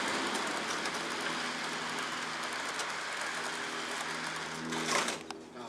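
Small Lima and Hornby model train locomotives clatter and whir steadily along the track, a continuous rattling hum that grows briefly louder near the end.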